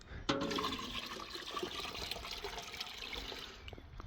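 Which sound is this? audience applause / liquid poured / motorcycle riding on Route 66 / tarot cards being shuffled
liquid poured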